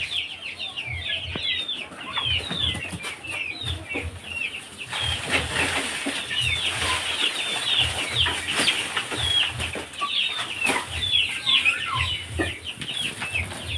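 Desi chickens cluck and squawk close by in a steady busy stream, with bursts of wing flapping and scuffling mixed in throughout.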